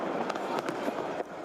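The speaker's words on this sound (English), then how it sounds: "and then suddenly the fireworks started" New Year fireworks bursting over central London, a quick run of dull booms and crackles under a voice talking.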